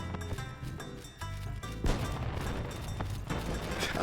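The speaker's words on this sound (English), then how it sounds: "Gosh, fireworks are so annoying." Fireworks bursting in the Final Fantasy XI video game, a series of sharp booms and crackling pops over layered game music, with a bigger burst midway and further cracks after it.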